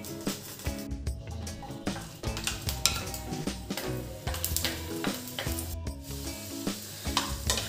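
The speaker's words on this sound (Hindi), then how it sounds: "अब हम गार्लिक को भी रोस्ट कर लेते हैं और एक पैन में थोड़ा सा ऑयल डाल देते हैं।" Garlic roasting in a little oil in a pan for tomato chutney, with steady sizzling under repeated clinks and scrapes of a spoon stirring against the metal; close and busy throughout.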